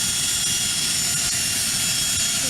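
Small plane taking off at Aurora Municipal Airport, a loud, steady broadband engine roar filling the scene without letup, close by and with no speech over it.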